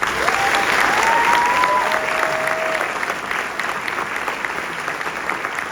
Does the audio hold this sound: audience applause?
yes